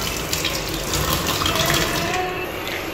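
Steady running water from a tap splashing over lemongrass being rinsed, continuous and close.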